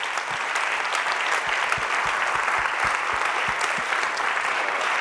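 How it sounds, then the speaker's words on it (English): Audience applause for the speaker Tehseen Noorani at a talk on psychedelics, a steady, dense wash of many hands clapping that holds evenly for about five seconds without a break. "Give up another round of applause for Tehseen Noorani, ladies and gentlemen"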